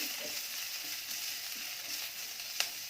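Grated ginger and finely chopped green chili frying in a pan with a soft, steady hiss of oil, faint and even, with one small tap near the end and no voices.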